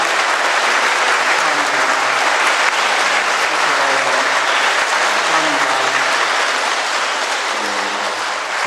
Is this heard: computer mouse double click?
no